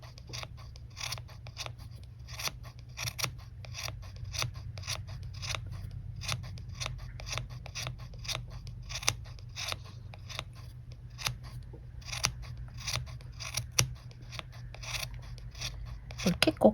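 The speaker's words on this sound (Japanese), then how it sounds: "真ん中だけをこうやって切っていく" Repeated snips of scissors cutting through the middle of a yarn pompom, a steady run of sharp close clicks over a low background hum.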